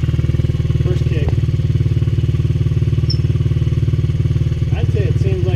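A 2015 Honda CRF 50 dirt bike idles steadily after a kick start following carburetor cleaning, its small single-cylinder engine putting out a loud, close, even putter throughout.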